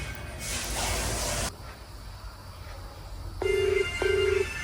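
A phone ringback tone sounds twice in short, steady beeps over a constant background hiss.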